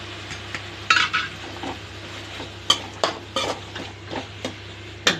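Cabbage stir-fried with onions and curry leaves for a carrot poriyal, a steady low sizzle under repeated sharp scrapes and clinks of a spatula against the pan, close and fairly loud, with no talk.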